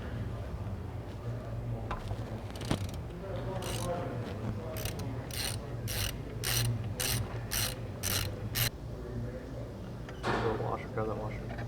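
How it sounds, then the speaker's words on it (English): A hand wrench ratchets in quick clicking bursts while loosening a 17mm fuel hard line on a Subaru WRX STi, close and fairly quiet, with people talking quietly in the background. "we're gonna break this line, this hard line loose right now with a 17mm"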